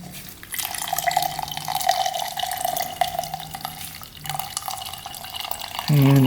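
Gasoline trickles and drips from the fuel line petcock of a race quad, a steady wet splatter against a container, with a voice talking over it.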